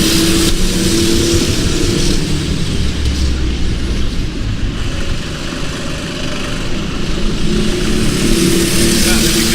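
Racing cars in round 3 of a McLaren championship race on a circuit, a constant loud engine drone with rising and falling whine, with a commentator talking over it throughout.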